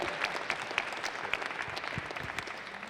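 Audience at a boxing promotions press conference in Branson giving a round of applause, a steady even wash of many hands clapping at moderate distance, with no talk over it.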